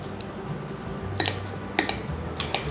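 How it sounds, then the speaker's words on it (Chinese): Steamed potatoes seasoned with rose salt and white pepper are mashed in a bowl, giving a few soft squishy presses and utensil taps, close and fairly quiet, with no talking. "把马铃薯压成泥"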